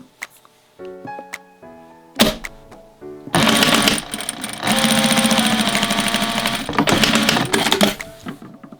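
A sewing machine stitches the seam of a three-layer fabric barrier mask, starting with a few short clicks and bursts and then running in a loud, continuous rattling whir for several seconds.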